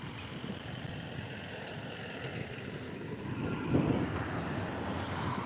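A parked car's engine idles nearby outdoors, a steady low rumble with broadband roadway hum that swells slightly toward the end, with no talking.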